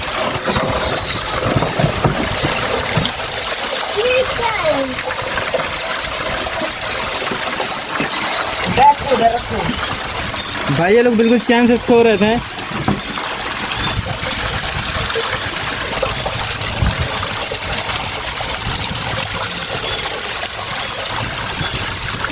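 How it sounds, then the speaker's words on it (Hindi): Water gushes steadily into a tank where people are sitting, a continuous loud rushing and trickling stream that runs throughout, with someone speaking over it. "और टैंक में पानी भर रहे हैं।"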